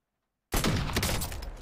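Gunfire in the battle royale shooter Call of Duty Warzone, a sudden loud burst after silence that continues as a dense, rattling volley of shots up close.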